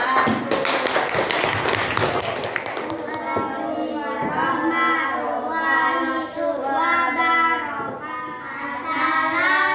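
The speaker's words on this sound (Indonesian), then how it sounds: "Tepuk tangan buat kelompok 1." Children in a primary school classroom clap for a student group, a short burst of rapid hand taps at first, then the room fills with children's chanting voices over it.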